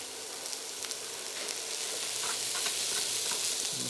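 Onions fry in a pan with a steady, close hiss and crackle that continues throughout, with a few light clinks from stirring and no talking.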